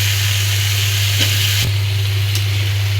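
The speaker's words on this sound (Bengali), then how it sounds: "সবজিটা আমি ভালো করে মিশিয়ে নেড়ে চেড়ে নিচ্ছি।" Vegetables being stirred and fried for a rui fish curry, a steady close sizzle with a couple of brief scraping stir knocks, continuous throughout alongside a constant low electrical hum.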